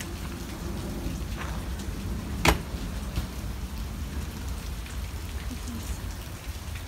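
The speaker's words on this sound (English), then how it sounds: "So I'm walking out here in the rain by myself." Steady rain patters outdoors at a campground full of vintage trailers, a continuous soft hiss of drops on surfaces with one brief sharp knock partway through.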